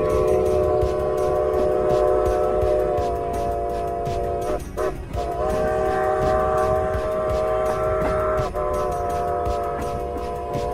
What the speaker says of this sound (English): we'll let you know once the train comes to a complete stop